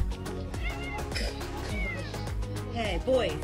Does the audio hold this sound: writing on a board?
no